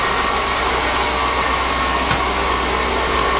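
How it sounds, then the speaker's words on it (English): Steady whine and hum from a worn alternator or power steering pump on an oil-burning 2002 Chevy Avalanche with a 5.3L V8, a loud continuous drone at idle with no talk. "There's the alternator or power steering or whatever. It's not in good shape."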